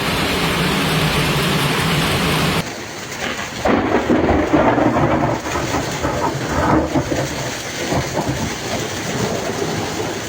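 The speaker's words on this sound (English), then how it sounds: "very strong thunderstorms accompanied by strong electrical activity, hail, and torrential rain" A violent thunderstorm in Gap, France, with torrential rain and hail: dense, loud rain roars at first, then deep rolling thunder rumbles and crackles close by, with heavy rain continuing underneath.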